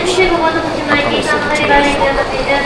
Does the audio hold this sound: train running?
yes